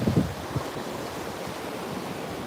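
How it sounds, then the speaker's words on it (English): Ocean waves at the beach on Anna Maria Island at sunset, a steady broad wash of surf with wind buffeting the microphone, loud and continuous, no talk. "never turn your back on the ocean either, Darla"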